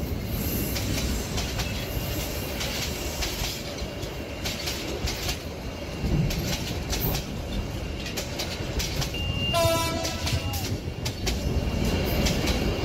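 A train runs steadily on its rails throughout, with a continuous rumble of the wagons and a brief wheel squeal near the end, close and fairly loud with no talk.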